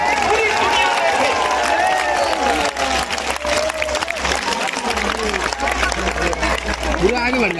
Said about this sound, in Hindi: एक बार इस युवा देशभक्त धर्म भक्त के लिए ताली बजाइए